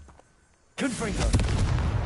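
After near silence, the Confringo fire blast spell from Hogwarts Legacy erupts in a sudden loud explosive burst, then a sustained booming, crackling roar, with a voice briefly audible over its start.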